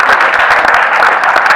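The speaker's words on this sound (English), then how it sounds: "Clap for her." Audience clapping at a nutrition gathering in Kisumu, Kenya, a dense, steady patter of many hands heard fairly close with no talk over it.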